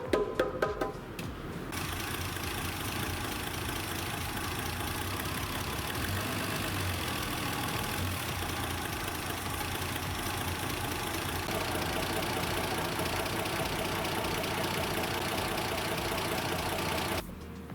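A Reliant Scimitar engine idles steadily with an exhaust blow, giving a constant close rumble with a faint ticking, puffing edge, running alone for most of the stretch before cutting off near the end.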